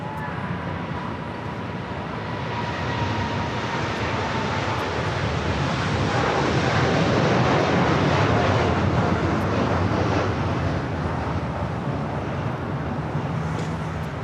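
A Boeing 747-8 jet rolls down the runway at LAX on its takeoff run, a loud, steady roar of engine noise that swells slightly and holds throughout without any voices.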